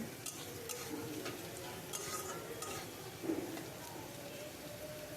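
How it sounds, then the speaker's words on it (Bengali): Potatoes frying in a pan with onion and garlic added, a soft steady sizzle running throughout with light clicks of a utensil stirring and scraping, fairly quiet and with no talking. "আলুটাকে লাল লাল করে আমি ভেজে নেব তারপরে দেখো পেঁয়াজটার মধ্যে আমি দিয়ে দেবো হলো একটু রসুন কুচি দিয়ে এটাকে ভালো করে ভেজে নেব"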